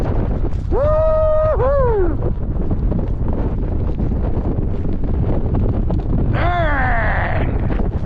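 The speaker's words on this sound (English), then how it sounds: "Here comes a good gust." Strong winter-storm wind gusting through snow and ice, a loud steady roar that fills the whole stretch while a person whoops and cheers over it.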